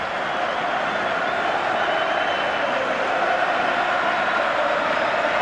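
Football crowd at a 1992 Zenith Data Systems Cup final between Nottingham Forest and Southampton applauding as players climb the steps, with steady distant clapping and crowd noise spread evenly throughout.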